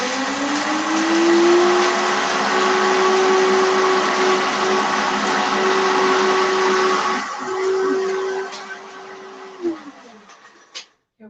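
A blender with a vacuum jug grinds chickpeas into flour on a 20-second cycle: a loud, steady motor whine rises to a constant pitch, holds, then winds down and stops, followed by a few light knocks.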